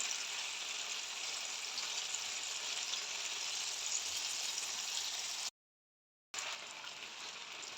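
Mutton liver (kaleji) fries in ghee on an ordinary home roti tawa, giving a steady, even sizzle that holds for several seconds, cuts out briefly, then resumes at the same level.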